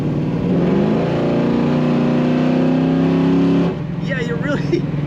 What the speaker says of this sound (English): Let's hit that throttle again.